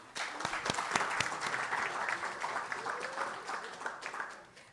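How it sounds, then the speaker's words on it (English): Audience at an academic book launch colloquium applauding, a dense, steady wash of hand clapping with a few sharper claps standing out, fading toward the end. "we were all clapping"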